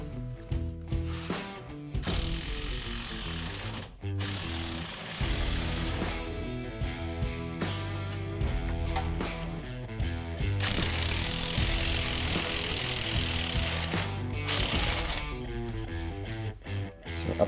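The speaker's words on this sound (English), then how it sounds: "loosening all control arms, the front, lower, and upper," A ratchet rapidly clicks close by while loosening the front control arm bolts on a 2025 Jeep Gladiator Rubicon during a lift install, in fast continuous runs broken by brief pauses.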